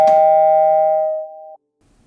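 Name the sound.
doorbell ringing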